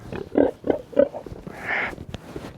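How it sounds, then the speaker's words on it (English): A farm pig grunts and oinks close by in a short run of rhythmic snorts, followed by a breathier squeal-like sound and a few softer grunts, with no talking. "Crazy pig."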